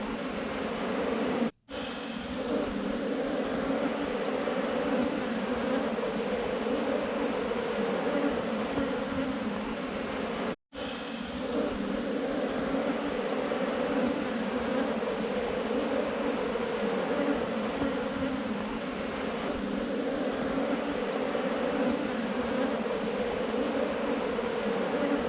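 Honey bees from a massive hive cut out of a building, a dense continuous buzzing swarm close by, steady and loud throughout with two brief dropouts.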